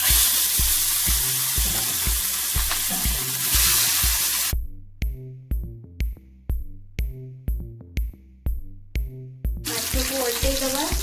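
Rohu fish frying in hot mustard oil gives a steady, close sizzle. The sizzle stops midway for a run of evenly spaced rhythmic pulses, then comes back at the end.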